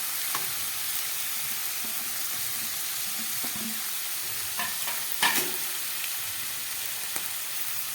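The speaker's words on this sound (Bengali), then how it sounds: "এবার দিয়ে দেবো আমি এই সিদ্ধ করে রাখা চিকেনটা।" Boiled chicken stir-fried in a pan for whole-wheat momo filling, giving a steady close sizzle with scattered scraping and clinking as it is stirred.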